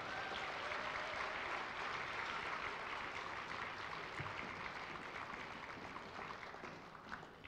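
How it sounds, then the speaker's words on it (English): A middle school winter band concert audience applauds the performers, a sustained, even wash of many hands clapping that tapers slightly toward the end, heard from within the hall. "let's get one more round of applause to our amazing performers tonight"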